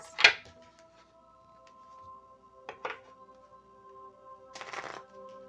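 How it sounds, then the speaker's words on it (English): Tarot cards are shuffled in three short riffling bursts spaced a couple of seconds apart, close and fairly soft, with a steady hum underneath. "while I am shuffling"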